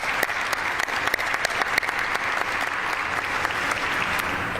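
An audience bursts into sustained applause at a Ford Field COVID vaccination event in Detroit, dense steady clapping filling the space with no talk over it.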